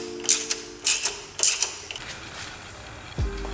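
Tightening an 11 mm T-bolt clamp on a turbo boost leak tester produces a few short metallic ratcheting creaks in quick bursts, close and fairly faint, followed by a low thump.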